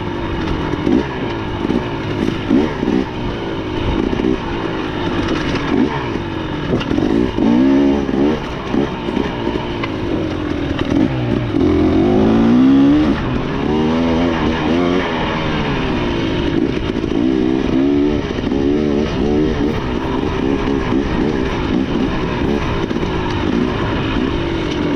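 Motorcycle of about 350 cc accelerating during a ride, a loud, continuous engine roar with rising and falling rev sweeps and wind rush, heard up close throughout.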